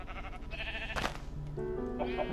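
Sheep in Minecraft, Sky Factory 2 modpack, bleat in short game calls, with a sharp click or thump in between and a drawn-out bleat near the end, all fairly close.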